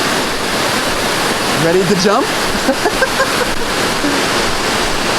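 Nauyaka Waterfalls in Costa Rica pour with a loud, continuous roaring wash close by, while a person briefly speaks over the rushing water.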